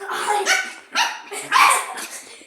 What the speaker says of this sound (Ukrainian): Ти що до нього гарчиш?